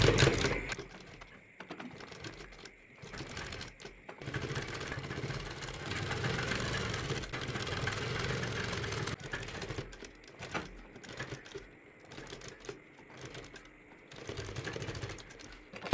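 A sewing machine stitches piping onto a collar in bursts of fast mechanical whirring, separated by brief pauses and small handling noises, fairly faint and close.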